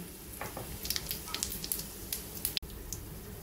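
Cumin seeds, bay leaf, cardamom and cinnamon, added after a pinch of hing, tempering in hot oil in a kadai, giving a soft crackling sizzle with scattered pops and a sharp clack near the end.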